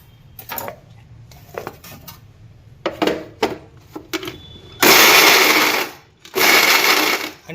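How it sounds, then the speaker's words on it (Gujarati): A mixer grinder blends green chilli and ginger into a paste, opening with scattered clinks and rattles before two loud, sustained whirring bursts separated by a short pause. "આમ ઝટકા મારી પીસવાનું આખા પાખું પીસવાનું તો આવી રીતે આખા પાખી મરચાંની પેસ્ટ પીસવાની"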